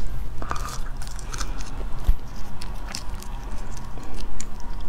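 Boiled jiucengpi, a chestnut-like food, bitten and chewed up close, with soft crunches and squishy mouth sounds over a constant low background hum.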